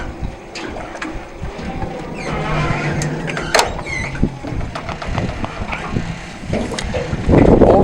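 Outboard engine on a small fishing boat idling in gear at a fjord dock, a steady low rumble with water splashing and wind buffeting close by.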